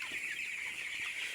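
Hens in a farm shed cluck softly in a brief, steady murmur, quiet and fairly close, with no voices over them.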